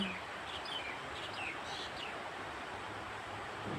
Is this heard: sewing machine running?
no